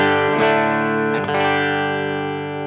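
Electric guitar running through Two Notes Genome software with a Marshall 4x12 cabinet, two sustained distorted chords struck and left ringing, heavy and effected with a touch of chorus and reverb.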